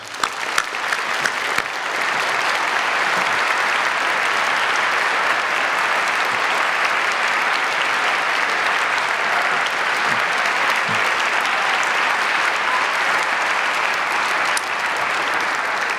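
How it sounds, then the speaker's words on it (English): Audience applause for young piano students at a keyboard festival concert, a full, sustained round of clapping that starts with a few individual claps and then holds steady and loud to the end. "Would you please give these folks a nice round of applause?"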